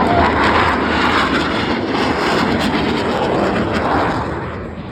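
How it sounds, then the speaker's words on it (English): Blue Angels jet aircraft performing an opposing inverted-to-inverted 360-degree roll at an air show, a loud continuous jet engine roar sweeping overhead that tapers slightly at the end. "Approaching inverted from the left and right, they will roll their aircraft 360 degrees, crossing over center point."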